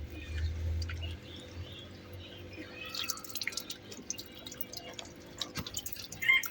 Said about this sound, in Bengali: পানি দিয়া ভালো করে ধুইয়া একবার করে পানি ছেঁকতে হবে